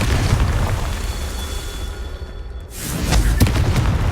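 A Confringo blasting spell exploding in Hogwarts Legacy, heard as a loud booming burst over a rumbling low background, followed by a brief dip and another surge of blast noise.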